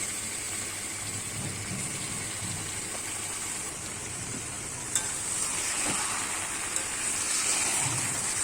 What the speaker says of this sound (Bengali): এর মধ্যে দিয়ে ভালো করে নাড়বো যাতে মশলাটা ভালো করে মাংসের সাথে মেশে।